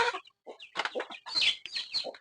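Free-range village chickens cluck close by in a small backyard flock, a run of choppy, irregular clucks and squawks with brief pauses between bursts.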